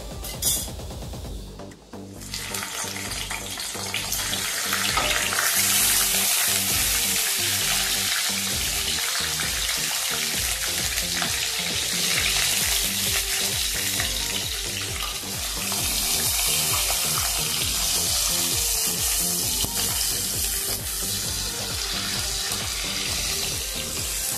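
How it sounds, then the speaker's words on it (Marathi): Bell peppers dropped into hot oil for a stuffed masala capsicum dish, giving a loud, continuous hissing sizzle that starts with a brief clatter and then stays steady and broadband throughout. "तेल गरम झाले, शिमला मिरची टाकूया"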